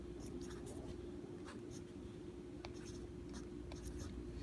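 Fractions are written by hand, a scratchy pen or pencil moving in short strokes over a steady low background hum, close but faint.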